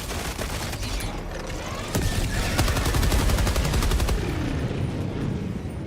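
Guns blaze in a video game battle, a loud, steady barrage of rapid automatic fire with heavier thuds mixed in, running without a break and swelling briefly in the middle.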